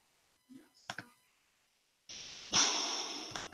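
A dog close to a microphone makes a few brief snuffling and clicking noises, followed by loud rustling and scraping right against the mic, with no talking.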